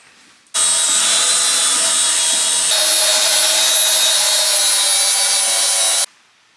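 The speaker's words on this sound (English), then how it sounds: "I'm going to grind down these welds" An angle grinder grinds down welds on a truck bumper bracket, starting abruptly and running as one loud, continuous high-pitched metal grind for about five and a half seconds before cutting off.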